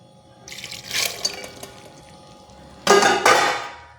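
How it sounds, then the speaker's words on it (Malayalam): Water poured into toor dal in a pressure cooker pot, two short bursts of close splashing and trickling, the second louder and denser, with no talk. "കുറച്ച് വെള്ളം ഒഴിച്ച് കൊടുക്കണം"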